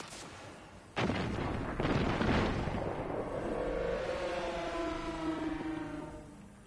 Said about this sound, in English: I never see the explosion, though.